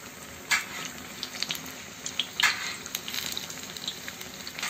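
Chilli bhaji fritters frying in hot oil, a faint crackling sizzle with scattered louder pops and bursts over a low hiss, no talk.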